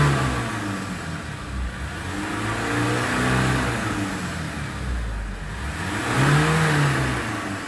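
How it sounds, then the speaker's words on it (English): A Ford Transit or Range Rover Evoque engine, undergoing a carbon clean, revs up and settles in smooth swells, loud and close with a steady mid-pitched hum and no talk. "We give this a quick rev."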